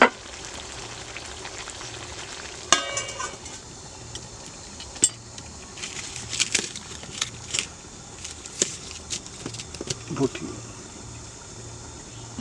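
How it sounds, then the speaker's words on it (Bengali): Duck meat cooking in a covered kadai (wok), a steady low frying sizzle with scattered clinks and scrapes of a utensil against the pan, close by with no talk. "এটা কড়াইতে কষিয়ে কষিয়ে রান্না করতে হবে"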